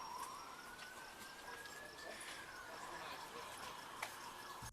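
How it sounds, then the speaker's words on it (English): A faint, distant police siren wails with a slowly rising tone over steady background hum. "Still sirens."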